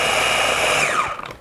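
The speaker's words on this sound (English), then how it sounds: "Re-blend. All we're going to do is remix the same consistency." A kitchen blender re-blending red lentil batter, a steady loud whir that holds, then winds down and fades toward the end, with no talk.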